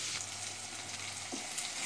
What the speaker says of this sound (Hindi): तो देखिए प्याज मेरा फ्राई हो रहा है